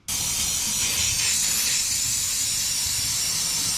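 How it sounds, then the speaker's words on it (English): Aerosol shock-freeze penetrating spray blasts onto a seized part of a 1961 Chevrolet Parkwood wagon, a loud, close, steady hiss that starts abruptly and holds without a break, no talk. "Spray a liberal amount on the area to be treated."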